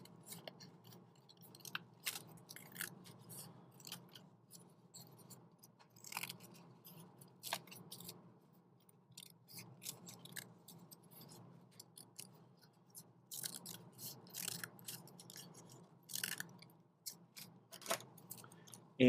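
Scissors snip through paper while a paper lantern is being cut, giving many quick, soft, close clicks in an irregular rhythm with brief pauses throughout.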